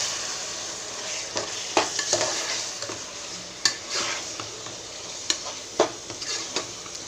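Rice fries in a pan with whole cinnamon and cloves while a spoon stirs it, giving a soft steady sizzle broken by irregular scraping strokes and light clinks, close and fairly quiet.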